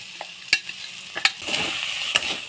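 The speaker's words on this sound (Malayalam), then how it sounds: "നന്നായിട്ട് മിക്സ് ചെയ്ത് കൊടുക്കാം" A spoon stirs a frying mixture of cooked ground beef and turmeric in a pan, with sharp scraping knocks over a light background sizzle.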